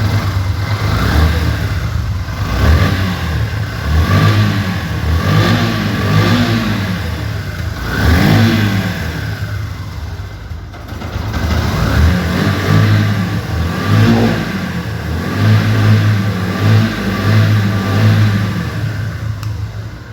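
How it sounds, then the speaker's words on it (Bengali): A 2010 Yamaha Fazer V1 motorcycle engine runs loud and close, revved repeatedly in rising and falling waves between steadier idling stretches, with no voices over it. "আপনারা ইঞ্জিনের সাউন্ড শুনতে পাচ্ছেন।"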